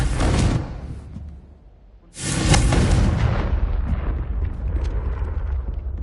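A fantasy blasting-spell effect erupts as a loud, rumbling explosion that fades briefly, then bursts again into a sustained, roaring blast with debris-like crackle.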